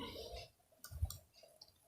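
A faint, brief computer mouse click on a COVID-19 vaccination registration website, with a couple of soft ticks against quiet room noise.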